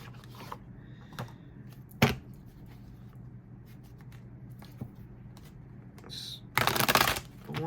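Rider-Waite tarot cards are shuffled by hand in a quiet room, soft riffling and shuffling with scattered taps and flicks, ending in a brisk, louder burst of shuffling.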